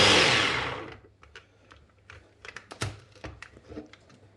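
A hand mixer whisks egg whites with granulated sugar in a home kitchen, a loud whirring burst for about a second that cuts off, followed by scattered light clicks and clatter of bowl and utensils.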